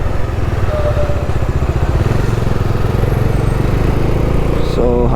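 Motorcycle engine droning steadily and loudly on a road ride through South India, with wind rush and a rhythmic low chug throughout, plus a brief clatter near the end.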